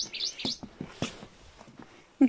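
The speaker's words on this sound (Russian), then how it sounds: "Птички поют." Small birds chirp outdoors in a village, a few short high tweets near the start and scattered faint calls, with light background noise and a louder brief sound near the end.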